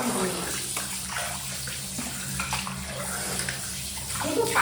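Steady running water from a tap fills and splashes during a bath for a cat named Mango, a continuous close rush with soft voices talking faintly beneath it.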